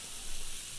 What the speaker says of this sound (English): Do you want to put some oil in the frying pan so it doesn't stick?